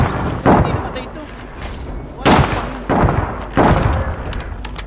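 Gunfire from a Striker gun in a video game: four heavy, booming shots spaced irregularly, each with a short rumbling tail, over a busy background with voices talking.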